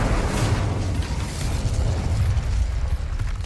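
The fire spell Incendio cast in Hogwarts Legacy erupts as a loud, booming burst of flame with a rumbling, crackling roar that surges and holds for several seconds.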